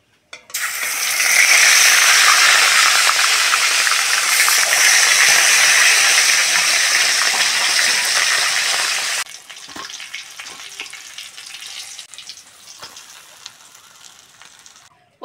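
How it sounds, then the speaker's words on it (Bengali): Two katla fish heads frying in hot oil, a loud steady sizzle that fades to quieter crackling and spitting after several seconds. "এবার মাছের মাথা দুটো ভেজে নেব।"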